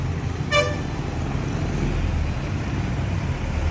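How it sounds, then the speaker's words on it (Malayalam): A bus labours up a steep hill road at Kacheri Kunnu, Cherpulassery, its engine a steady low rumble, with one short horn toot near the start and no voices over it. "ആ ബസ് കയറി തന്നെ കണ്ടോളൂ"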